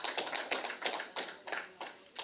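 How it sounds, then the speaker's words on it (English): A small group gives a short burst of applause for Her Excellency Dame Paulette Louisy at an evening cadet company function, sounding as a few separate, fairly quiet claps spaced out over a couple of seconds. "Let's give her a hand of applause"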